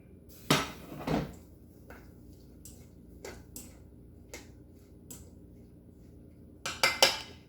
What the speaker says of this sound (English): I'm just going to dump it into this strainer here